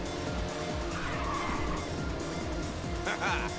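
Racing car in Ridge Racer 6 boosting on nitrous, a steady droning engine with tire squeal, and a brief louder surge near the end.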